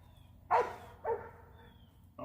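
Two sharp, loud barks from a nearby dog come about half a second apart, then quiet, with the start of a third bark cut off at the end.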